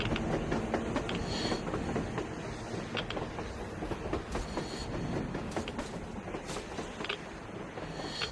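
A train runs along the surface in the video game Metro Exodus, a steady rumbling roar with sharp intermittent clanks and rattles, fairly loud and easing slightly toward the end, with no one talking.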